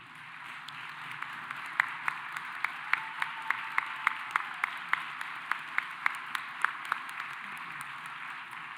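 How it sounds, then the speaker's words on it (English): Audience applause fills a graduation ceremony hall as educators stand to be recognized: dense, steady clapping from a large crowd, with a few sharper individual claps standing out, sustained throughout. "You deserve a big round of applause."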